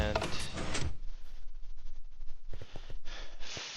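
A door opens in a video game with a brief airy whoosh, followed by quieter clacks and soft mechanical knocks at moderate distance.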